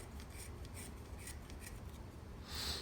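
A knife shaves the keel of a carved wooden spoon with short upward cuts, producing a series of quiet close scraping strokes with a slightly louder rasp at the end.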